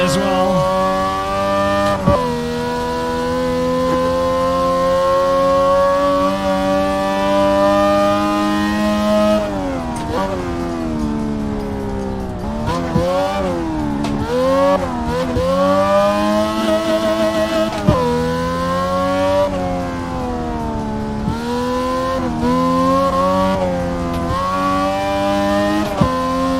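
A car engine in the Assetto Corsa racing game revs loudly, its pitch climbing through the gears and dropping on the shifts, with tyres squealing now and then through corners.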